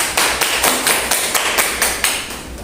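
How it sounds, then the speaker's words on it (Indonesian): Clapping for a student, Mbak Farah, during a high school class session, heard as a short run of regular, fairly loud claps from a small group, close by and with no talk over it. "tepuk tangan buat Mbak Farah"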